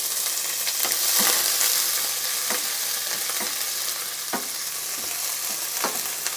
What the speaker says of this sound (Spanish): Vamos a acitronar la cebolla primero.